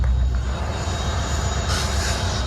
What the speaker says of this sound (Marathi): मित्रांनो आलो आता सांगली स्टेशनवर